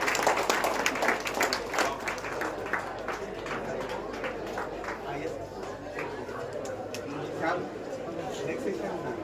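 An audience at a faculty development program session claps steadily, a dense patter of many hands that continues without a break and stays fairly even in loudness, with some voices and chatter mixed in.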